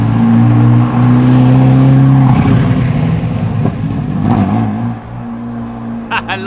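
A Ferrari F40 roars by on the road, a loud engine drone that rises and sweeps past, then fades as lighter traffic noise carries on.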